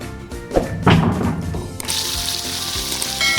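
Mutton karahi sizzles loudly on a high flame, a steady bright hiss with a few heavy thumps and clatters of the pan early on, no voices.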